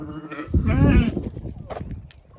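Sheep bleating at night while out grazing with a Haymana Karası herding dog, a close, loud wavering bleat near the start followed by quieter animal sounds and rustling.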